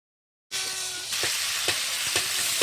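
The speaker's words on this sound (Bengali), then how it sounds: "আদা বাটা দিয়ে আমি বেশ কিছুক্ষণ এটাকে ভালো করে কষিয়ে নিয়ে লঙ্কার গুঁড়ো দিয়ে আমি এটাকে ভালো করে কষিয়ে নেব।" Fish curry frying with ginger paste and chili powder, a steady close sizzle that begins abruptly after a short silence, with several soft scraping stirs of a spoon in the pan and no talk.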